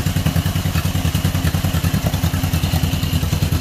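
A John Deere M tractor engine runs roughly and unevenly instead of idling smoothly, giving a loud, close, steady chugging of rapid thumping pulses with a clattery edge throughout.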